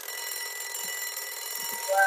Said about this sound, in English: you've got the timer going again